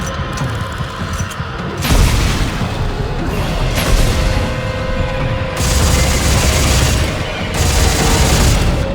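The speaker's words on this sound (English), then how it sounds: "And now someone is lobbing grenades at me." Grenade explosions in the sci-fi shooter Dead Space 3, loud booming blasts landing one after another with crashing, rumbling bursts and no talk over them.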